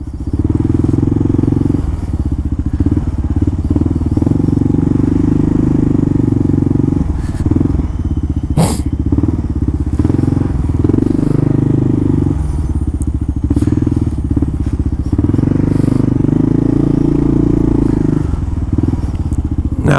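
Motorcycle idling and running in city traffic with its exhaust silencer tip removed, a loud, close, continuous low rumbling drone with occasional clatter and thumps, steady throughout.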